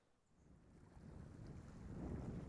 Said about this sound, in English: I know it suddenly got windy out here.